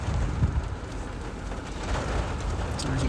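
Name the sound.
rain during a storm in central Kansas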